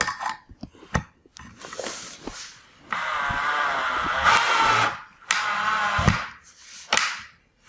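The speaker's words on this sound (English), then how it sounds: "I'm working on the last back leg, and I'm going to be using a power drill" Power drill boring into the back leg of a homemade wooden chair, heard as short bursts of whirring and grinding, with a longer sustained run in the middle, separated by clicks, knocks and brief pauses.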